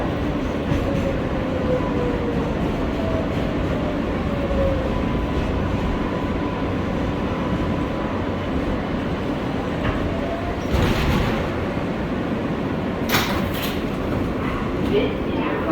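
An R143 L train on the New York City subway runs through the tunnel with a steady loud rumble and rising and falling motor whine, plus a few sharp squeals and rattles near the end.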